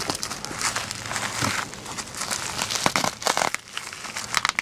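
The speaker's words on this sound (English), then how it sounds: "Maybe Alice can unwrap that one." Packaging from a newly arrived ordered magnet crinkles and crumples as it is unwrapped nearby, with continuous rustling and several sharper tearing crackles toward the end.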